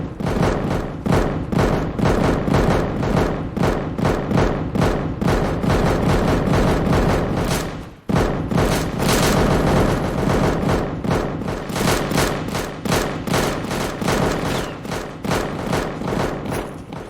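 Heavy gunfire in the video game Deadside rattles in rapid, dense bursts almost without pause, loud and close, with a brief break midway before the shooting resumes.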